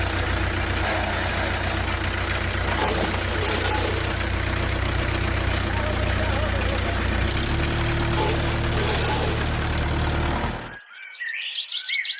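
A cartoon tractor engine strains to pull a truck out, a steady mid-pitched drone that shifts and then cuts off abruptly near the end, with a voice talking over it.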